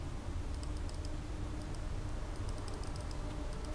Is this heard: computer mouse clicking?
yes